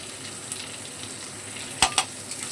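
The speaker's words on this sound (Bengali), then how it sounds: "টমেটোটা তেলের মধ্যে একটু নেড়ে চেড়ে নিলাম।" Chopped tomato sizzles in hot oil in a pan as it is stirred for an eggplant dish, a steady close frying hiss with two quick spatula scrapes near the end.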